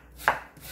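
A knife slices fresh new-season onion on a cutting board for a cucumber-onion salad, with two quick, crisp chops close together.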